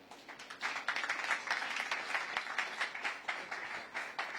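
Audience applause at a public meeting about the proposed Landmark Beach Resort demolition in Lagos: a steady, dense crowd clapping that stays fairly even and continuous throughout, with no talking over it.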